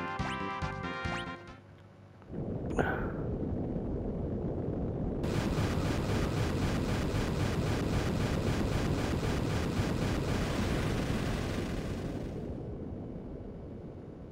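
A broad, roaring explosion as an engine is blown up in the video game Final Fantasy V, a brief tonal passage giving way to a sustained, loud rumble that slowly fades.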